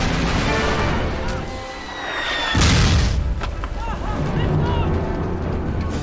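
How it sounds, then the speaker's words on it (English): Battlefield artillery fire and gunshots, with heavy booms and a dense rumble of distant blasts, mixed under a narrator's voice throughout. "they were met with relentless artillery fire, followed by gunshots echoing from every direction"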